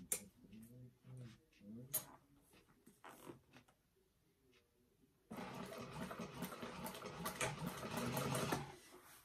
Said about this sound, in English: And then we are going to top stitch that with an eighth of an inch seam allowance.